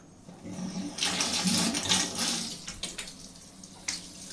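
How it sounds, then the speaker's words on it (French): Water pouring steadily from an automatic bathtub filler in a Japanese bathroom, a continuous close rushing flow with brief bumps and shifts in level. "ça va démarrer le remplissage de la baignoire"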